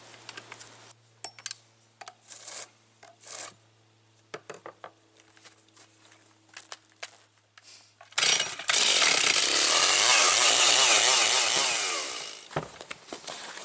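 A chainsaw cutting wood roars loudly and steadily for several seconds after scattered clicks and knocks, then cuts off.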